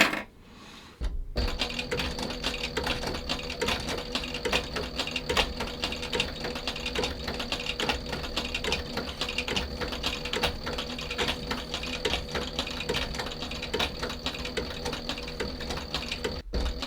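Sewing machine stitching a leather shoe upper, running in a fast, even mechanical clatter that starts after a brief pause and continues without a break, close and alone with no speech.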